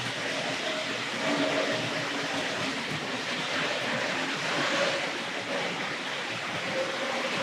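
Hornby Dublo model Mallard locomotive running on a layout, a steady continuous rumbling roar of wheels on track, fairly loud and unbroken throughout.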